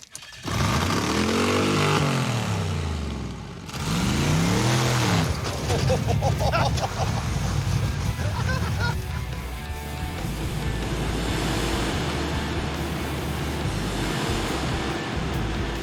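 A 1957 Glass Craft car doing a burnout, engine revving hard in loud swooping surges over a roaring, sustained tire spin, close and dominating throughout.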